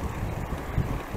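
Outdoor wind gusts buffet the microphone in a brief, low, rumbling rush on a hot day, with no voices over it.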